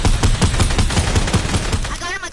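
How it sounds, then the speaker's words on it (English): Rapid bursts of automatic gunfire in the video game Fortnite, loud and rhythmic with sharp repeated shots, excited players talking over it. "Keep shooting them."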